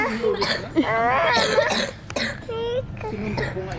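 A child coughs a few times amid chatter, with young voices talking and calling out around the coughs.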